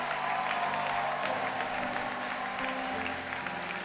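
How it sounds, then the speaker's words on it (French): A church congregation claps and cheers for the pastor, dense continuous applause from a crowd with scattered shouts mixed in, steady and moderately distant throughout. "avec des hurrahs et des vivas, des cris de joie et des cris de triomphe, acclamer le Seigneur pour le pasteur Alain"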